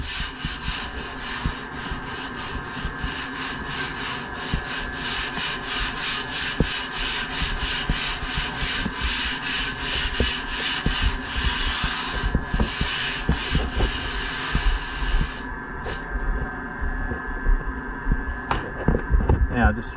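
Rhythmic rasping strokes of hand sanding on a shaped wooden piece, close and steady for most of the clip before trailing off into a few scattered scrapes and knocks.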